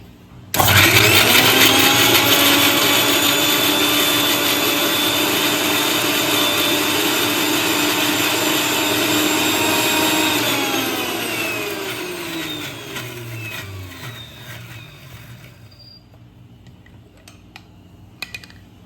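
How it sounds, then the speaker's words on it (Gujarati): An electric mixer grinder whirs loudly at high speed, grinding chili and spices for dabeli masala, running steadily for about ten seconds before winding down and trailing off into quiet. "હવે આપણે બધી સામગ્રીને પીસી લઈશું. લો મિક્સર સ્વિચ ચાલુ છે."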